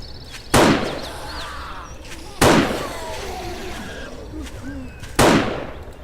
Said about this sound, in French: je vais y aller au sniper